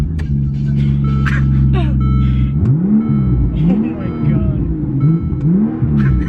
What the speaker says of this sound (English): He hasn't heard the straight pipe V12 yet.